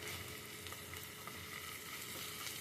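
Ginger paste sizzles steadily in hot oil for chicken or greens pulao, a dense continuous frying hiss heard up close with faint stirring and no talk.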